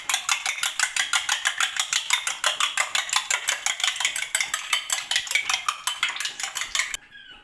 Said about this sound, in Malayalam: ഇനി നമുക്കിത് നന്നായിട്ട് മിക്സ് ചെയ്യാം.